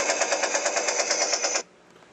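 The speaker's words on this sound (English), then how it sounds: "And it also has a machine gun." Rapid electronic machine-gun burst from the sound module of a 1/12 scale RC Tumbler toy vehicle, an evenly pulsing rattle of about twenty shots over a second and a half, loud and close, then stopping abruptly.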